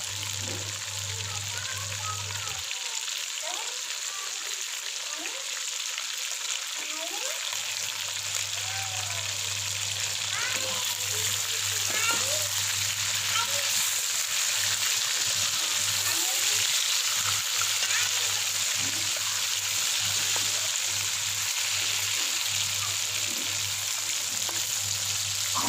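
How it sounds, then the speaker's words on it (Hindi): Chicken charsi karahi sizzles and fries steadily in a pan as tomatoes are added, a continuous close crackle with a brief dip in the low hum and scattered stirring clatter. "अब मैं इसमें 6 अदद टमाटर डालूँगा।"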